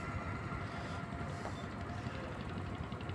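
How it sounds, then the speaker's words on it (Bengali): A river trawler boat passes on a river in Munshiganj, heard as a faint, steady engine drone mixed with wind noise that holds continuously without a clear peak. "ট্রলারটা খুব সুন্দরভাবে চলে যাচ্ছে।"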